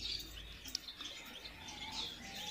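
Faint, distant chirping and twittering from Bengalese finches in an aviary, a steady soft chatter of high calls over low background hum, with no voices.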